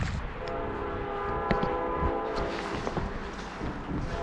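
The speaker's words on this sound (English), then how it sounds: "There's actually a train coming" A train rolls past near the Pigeon River in Michigan in winter, a loud continuous rumble and rail noise with a steady horn-like tone held throughout.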